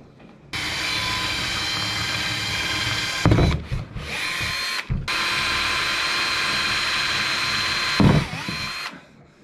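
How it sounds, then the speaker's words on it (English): Power drill with a blunt bit, used while building a Shakespeare Breakaway tackle box, whirring loudly and steadily in two long runs broken by short stops, clunks and handling knocks. "The world's bluntest drill bit."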